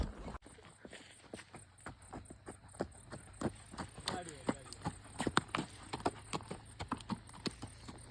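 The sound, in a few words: horse walking, hooves clip-clopping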